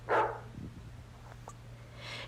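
A single dog bark sounds up close near the start, followed by faint scuffling and quiet background hum.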